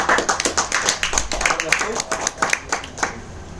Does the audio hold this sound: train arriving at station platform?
no